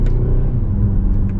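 Turbocharged engine of a 2020 Mazda CX-5 SUV accelerating on the road, a steady, loud low rumble heard from inside the cabin, with no one talking.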